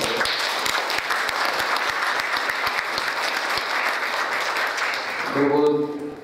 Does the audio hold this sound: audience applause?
yes